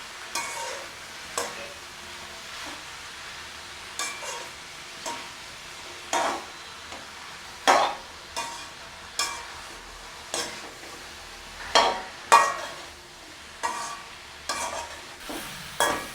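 Boiled chickpeas and soaked soya meat are being stirred in hot oil in a pan, a spoon scraping and turning them in repeated close strokes over a faint, steady sizzle, with no talking.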